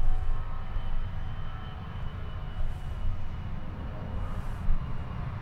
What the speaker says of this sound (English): Sounds like a plane's taking off soon.